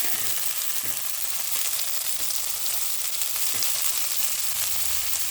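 Chopped mint leaves frying in hot oil with cashews and onion for mint rice, a loud, steady sizzle and crackle with occasional stirring, no voices.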